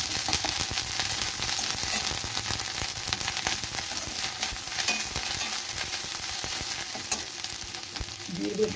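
Garlic and ginger paste frying in hot oil for a chili soybean dish gives a steady, close crackling sizzle with occasional stirring scrapes, heard alone throughout.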